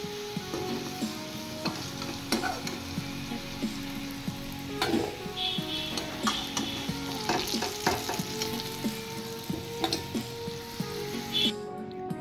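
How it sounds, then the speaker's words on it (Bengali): Potatoes seasoned with salt and turmeric fry in oil in a pan, giving a steady close sizzle. A spatula scrapes and stirs through it at intervals. "নুন হলুদ দিয়ে আলুগুলো এবার ফ্রাই করে নেব।"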